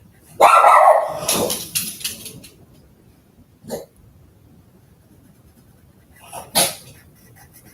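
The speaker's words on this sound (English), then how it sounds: "Forgive me if the dog is annoying you." A dog barks indoors, one loud burst followed by two short, sharper yips spaced seconds apart, with near silence between them.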